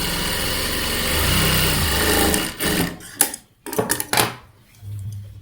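A sewing machine stitching a puff sleeve: a steady mechanical whirring run for a couple of seconds, then short stop-start bursts of stitching with brief pauses, close and moderately loud.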